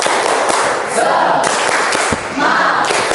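A school class of eighth graders claps together in a classroom, a loud, dense burst of many hands striking in a rhythmic pattern, mixed with voices calling out.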